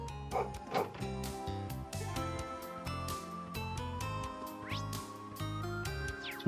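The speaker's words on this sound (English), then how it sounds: "That dog's always making a racket." Dog in Trails of Cold Steel 3 barking in a town area, a few quick yips early on under steady game music, fairly faint and brief.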